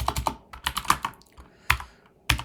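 Quick, uneven clatter of keys being typed on a computer keyboard while writing code, close and fairly quiet, with irregular bursts and brief pauses.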